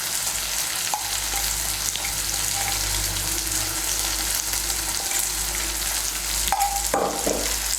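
Ginger and green chilli paste sizzles in oil while being stirred, a dense continuous frying hiss with scraping strokes and a sharper clink near the end, close and fairly loud.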